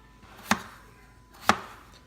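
A knife chopping potatoes into pieces for mashed potatoes, two crisp, separate cuts about a second apart, close and clear, with quiet between them.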